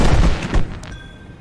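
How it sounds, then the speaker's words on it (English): Fireworks burst in the video game Final Fantasy XV: War for Eos: a quick cluster of sharp, loud pops and booms over about half a second, then a brief fading crackle. "We got a bunch of fireworks."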